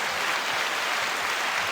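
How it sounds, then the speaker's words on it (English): Brief applause for a podcast guest in a small studio, a steady wash of clapping that stays even in level throughout, with no talk over it. "Let's give her a clap."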